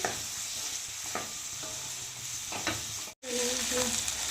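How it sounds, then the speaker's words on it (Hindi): Radish and onion stirred together in a frying pan for a methi-mooli dish, a steady sizzle with scraping spoon strokes, briefly cut off before the frying resumes. "तो यहाँ देखिए प्याज के साथ में ही मूली को अच्छे से मिक्स करेंगे"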